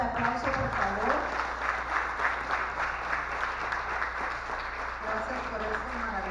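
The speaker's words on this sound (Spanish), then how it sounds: "Un fuerte aplauso, por favor." Audience applause at the Open Hacking Guatemala 2018 security conference: steady, dense clapping that continues through the whole stretch, with a voice audible over it.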